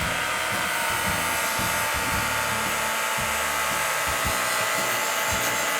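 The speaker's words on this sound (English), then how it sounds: "we're just going to sand that off" A power sander grinds dents off a bent blade outdoors in a yard, a loud continuous high-pitched whine with rough grinding texture and a few uneven low thumps, close up and without talk.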